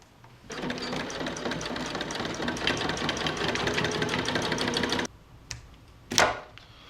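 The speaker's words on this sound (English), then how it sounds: "just to do one line of straight stitching through this together before we sew it to the hammock" A sewing machine runs steadily for about five seconds, stitching one straight line through hammock fabric, then stops; a couple of brief handling noises follow.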